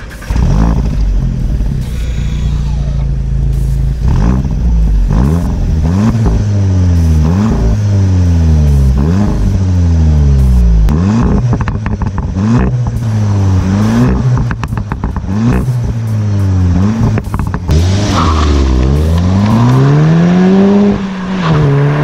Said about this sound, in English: these cuffs and farts that the exhaust pipes do when shifting the gear in the right moment